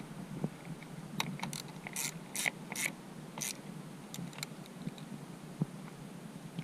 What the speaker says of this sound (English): now we're just gonna tighten up these two screws.